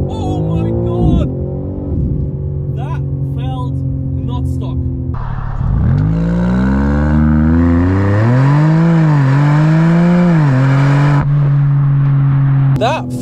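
A tuned 590 hp BMW M3 Touring launches hard, its engine note rising through the gears, loud and close from inside the cabin, while an excited occupant shouts over it.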